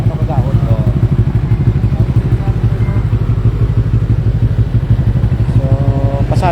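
A motorcycle with a loud aftermarket exhaust muffler revs hard at a roadside noise check in Iloilo City, its deep throbbing roar steady and close throughout, with voices in the background.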